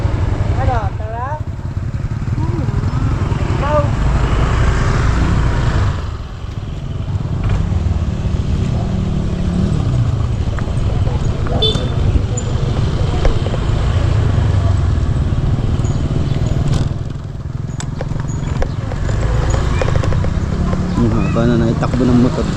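A motorcycle rides along a road with a steady, loud engine drone and rushing wind, dipping briefly before resuming its constant hum.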